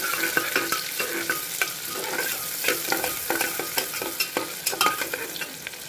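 Sliced onion sizzles and fries in hot oil inside a pressure cooker, with repeated scraping stirs breaking through the steady crackle at close range.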